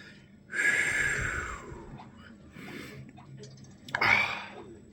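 A person coughs and splutters after tasting a hot chili beer: a harsh, close burst of coughing, a rougher breathy stretch, then a second sharp cough near the end.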